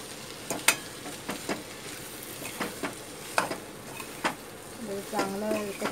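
Okra bhindi sabzi frying in a pan as a Maharashtrian dish, with a spatula stirring it through a steady close sizzle. Sharp scrapes and clinks land at irregular intervals, and a brief voice rises near the end.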